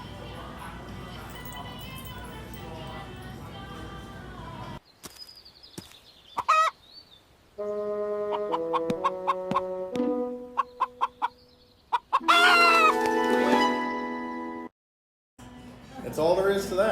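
A chicken clucks in short bursts and a rooster crows in a generated animation, the bird calls coming in broken, tonal phrases between stretches of someone speaking and brief silences.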